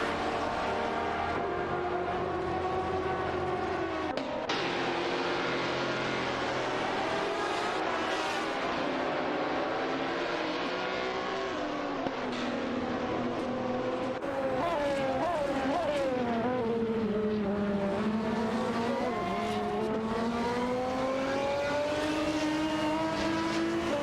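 Race cars including a BMW M3 GTR and a Nissan GTR GT1 battle on a video game track, their engines droning and shifting pitch continuously and loudly, rising and falling as they accelerate, with no talk over the roar.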